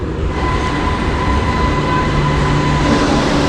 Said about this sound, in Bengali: আমাদের ট্রেন অলরেডি ঢুকছে দেখতে পাচ্ছেন এই হচ্ছে আমাদের ট্রেন